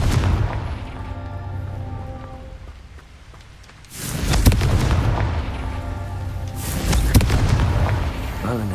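A Confringo fire-blast spell cast in a Harry Potter video game goes off twice, each a loud, close, booming burst with a crackling, rain-like hiss that lingers between and after the blasts.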